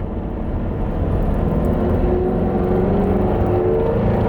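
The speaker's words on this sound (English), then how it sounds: "So you can probably hear right now the differential." Differential whine from a Saturn Sky sports car while driving, a thin rising tone riding over steady low road and engine rumble inside the cabin.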